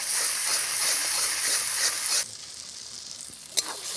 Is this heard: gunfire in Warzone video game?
no